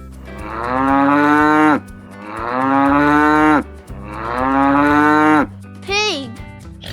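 A cow lets out three long, loud moos in a row, each drawn out and falling at the end, followed by a brief shorter call, close and clear over faint background music.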